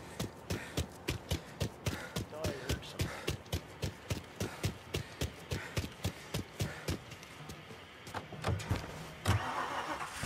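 A car in Mafia Definitive Edition cranks in a steady, rhythmic starter churn for several seconds, fairly quiet, before the engine catches and a fuller running sound takes over near the end.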